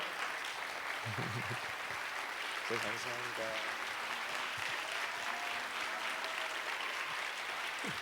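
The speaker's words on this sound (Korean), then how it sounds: "우리 목사님께 사랑과 우리 감사의 마음을 담아서 큰 박수" A church congregation applauds its pastor with steady, continuous clapping during a youth worship service, while a voice speaks briefly over it.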